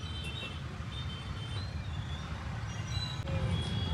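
Steady road traffic near a busy street with two-wheelers and four-wheelers, a continuous low rumble of passing vehicles with a faint high beep or tone near the end and no talk.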